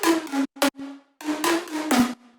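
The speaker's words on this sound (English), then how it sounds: "pluck sounding like this, and then with effects" Bright synth pluck notes run through effects, tonal and harmonic with a steady low note, playing in short phrases with brief gaps, clear and alone with no talk.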